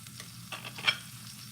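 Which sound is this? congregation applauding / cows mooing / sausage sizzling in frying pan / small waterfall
sausage sizzling in frying pan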